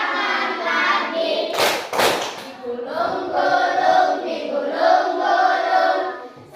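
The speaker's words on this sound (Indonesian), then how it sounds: "tepuk tangan lagi" Schoolchildren in an elementary classroom clap their hands in a quick burst of two loud claps amid singing voices of a group.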